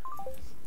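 A rapid run of four or five distinct telephone keypad tones steps downward in pitch in under half a second, then fades to quiet background hum, with no talking.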